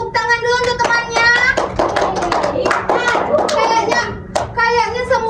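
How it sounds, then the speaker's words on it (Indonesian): A classroom of students claps for a classmate during a microteaching lesson, bursts of brisk close hand claps mixed with children's chatter and voices throughout. "Beri tepuk tangan dulu untuk temannya"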